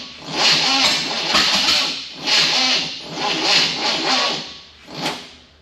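A 1974 Chevrolet K20 pickup, left sitting outdoors for years, cranks repeatedly in uneven surging bursts as it tries to fire, the starter slowing as the battery runs low, close and loud.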